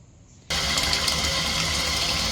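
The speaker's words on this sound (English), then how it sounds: "I'm getting tap water out of the shower, all the way on hot." Hot tap water bursts on from a shower after a quiet moment, then runs as a loud, steady rushing gush close by.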